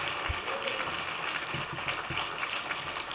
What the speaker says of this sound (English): I think we all should give Tina a round of applause